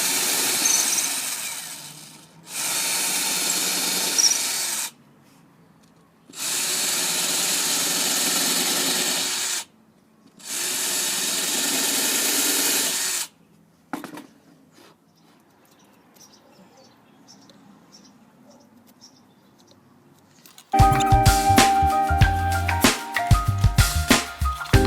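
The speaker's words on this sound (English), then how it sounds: "now let's drill in." A power drill runs in three bursts of a few seconds each, drilling into a small wooden rabbet joint box, separated by short pauses, then quieter handling noises follow before a louder clatter near the end.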